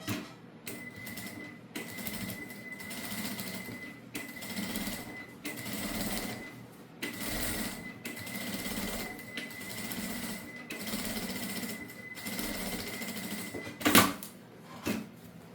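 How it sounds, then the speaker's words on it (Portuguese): Fast, rattling needle bursts of a sewing machine topstitching fabric lining on a small rosary pouch, several runs separated by short pauses, close and clear with no talking. "Agora, nós vamos fazer uma costura de pesponto aqui embaixo, para prender o forro."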